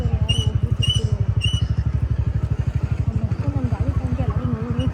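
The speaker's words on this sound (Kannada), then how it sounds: "ಗಾಡಿ ಸೌಂಡ್ಗೆ ಓಡಾಗ್ಬಿಡ್ತಾರೆ ಜನ" A scooter engine runs close by with a rapid, even putter, its loud, rhythmic pulses continuing steadily throughout; a few short high chirps sound early on.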